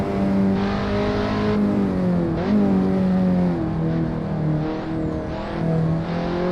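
A car in the racing game Assetto Corsa drives through a town circuit, its engine droning with a turbocharger whine that holds steady, dips around a gear shift and then climbs again, with no talk.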